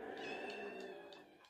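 A house cat meowing near a doorway, a few drawn-out harmonic meows in quick succession, fairly close and clear with no talk over them.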